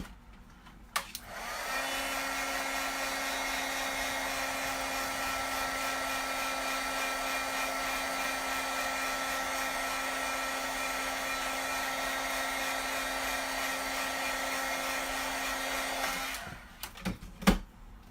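A hair dryer blowing on a handmade butterfly card runs as a steady, loud whir for about fifteen seconds, switching on and off with clicks at either end.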